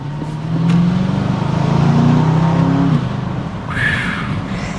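A base-model Aston Martin DBX SUV engine revs hard under acceleration, a loud rising growl that climbs in pitch through a gear change before settling into a steady cruise roar with a faint whine.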